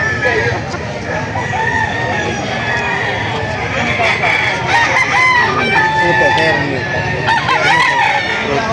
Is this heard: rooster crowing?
yes